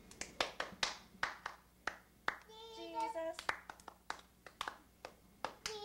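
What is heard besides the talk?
hand clapping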